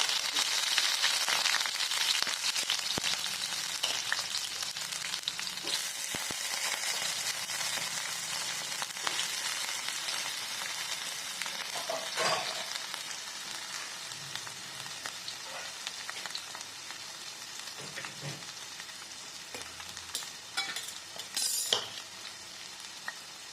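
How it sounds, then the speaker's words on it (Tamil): Pirandai sautéing in sesame oil, a constant bright crackling sizzle that eases slightly over time, with intermittent stirring scrapes and utensil taps nearby and no speech. "கொஞ்சம் நல்லெண்ணெய் ஊற்றி பரண்டையை வந்து வதக்கிக்கோங்க"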